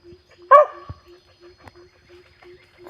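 A dog barks once, sharp and close, in a forest after rain, followed by faint rustling and soft, regular background chirping.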